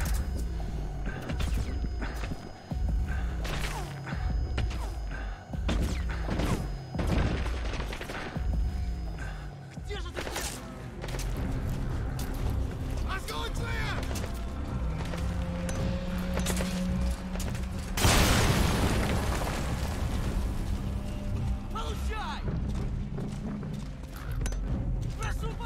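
Repeated grenade blasts and booming gunfire in Metal Gear Solid V: The Phantom Pain, dense and loud throughout, with a heavier burst near the end and voices talking over the combat.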